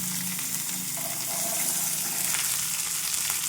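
Sweet corn fries with chopped onions and green chillies in a hot pan, giving a continuous close sizzle with light stirring and tossing noises and no speech.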